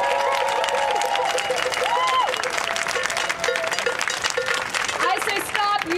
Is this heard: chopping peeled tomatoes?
no